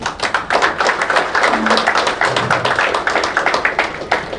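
Dense applause from a crowd at a hospital IVF centre event, many hands clapping steadily in a busy, continuous patter that stays loud throughout.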